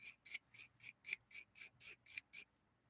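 A bristle brush scrubs metal parts of a Singer 201-2 sewing machine in about ten quick, evenly spaced rasping strokes, close and crisp, before stopping.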